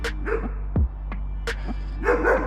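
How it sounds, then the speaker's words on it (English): A Rottweiler barks a few times over a steady low hum, short sharp woofs with a whimpering yip between them, close by, in a garage setting. "It's a Rottweiler."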